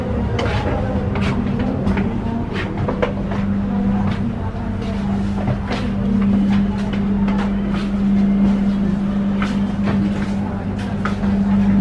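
A steady low hum and rumble fills a moving stainless steel train carriage, with faint rhythmic clicks of wheels on track and muffled voices in the background.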